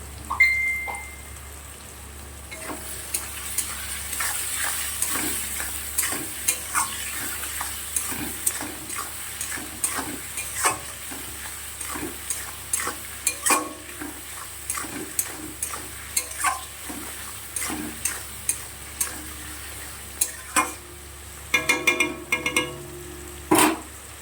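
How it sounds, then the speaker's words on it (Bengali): Onions frying with salt in a hot pan, a steady sizzle under frequent sharp scraping and stirring clicks that grow busier toward the end, close and clear with no talking. "পেঁয়াজটা মজে গেলে নরম হয়ে গেলে পরে তাড়াতাড়ি ভাজা ভাজা হয়ে যাবে"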